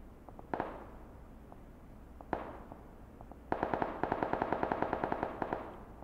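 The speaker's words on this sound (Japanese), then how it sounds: "あ、そこの家から銃声してますね。" Gunfire in the mobile video game PUBG Mobile, with a few scattered single shots and then a sustained rapid automatic burst, fairly distant and moderately loud, with no talking.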